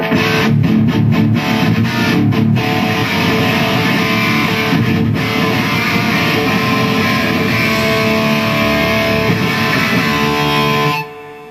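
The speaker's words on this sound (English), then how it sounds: "Overdrive 1 sounds like this." Electric guitar through a Marshall amp on its overdrive 1 channel, a dense, gritty distorted wash of sustained chords played loud and close before it stops abruptly.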